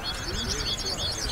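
A contest songbird sings in a continuous high trilling warble at Granada's open bird competition, steady and fairly close with no voices over it.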